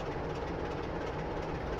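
A freight train of oil tanks rolls through Taunton station in a train simulator game, a steady, even rumble of wheels and engine running on without a break and with no talk over it.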